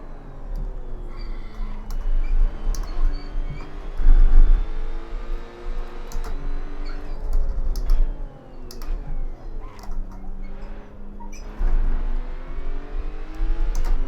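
The race car engine in the Assetto Corsa sim revs high and continuously, its pitch climbing and falling through gear changes on track, with light keyboard-like tapping clicks heard over it.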